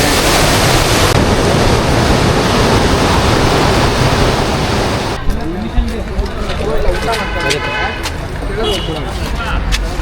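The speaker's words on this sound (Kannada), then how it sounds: "ಫಾಲ್ಸ್" A waterfall in the Western Ghats near Agumbe roars close and loud with constant rushing water, then the sound drops to a softer, more distant flow as people talk nearby.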